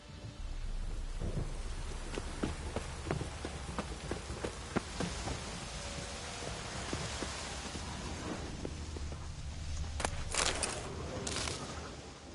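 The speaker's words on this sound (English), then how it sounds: "A storm, damn it." A thunderstorm rumbles over steady rain, with low rolling thunder beneath a continuous wash of falling water and scattered sharper cracks, the heaviest bursts coming near the end.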